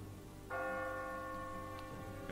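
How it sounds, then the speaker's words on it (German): A bell rings near the exit in the video game Catherine, a single resonant church-like strike with a long sustained hum over a steady low background drone. "As you near the top, you will hear a bell ringing."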